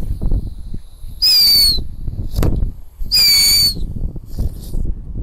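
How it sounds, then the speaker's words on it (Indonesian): Two mouse firecrackers fixed to a toy car go off one after the other, each giving a shrill, loud whistling screech lasting under a second, separated by rustling and clattering handling noise. "kali ini kita akan menyalakan dua mercon tikusan dengan mobil mainan guys"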